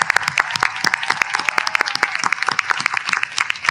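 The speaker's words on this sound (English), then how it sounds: "let's give our families a round of applause" Audience at a medical college convocation ceremony in Karachi, Pakistan applauding families, a dense, sustained round of clapping from many hands, loud and continuous with no talk.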